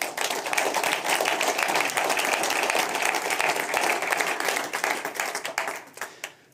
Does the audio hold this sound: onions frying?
no